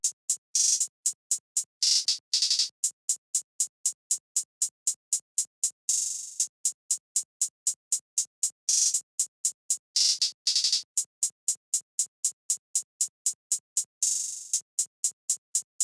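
Programmed hi-hat pattern in a trap beat, crisp rapid ticks in a steady stream with quick rolls and stuttered bursts, clean and alone.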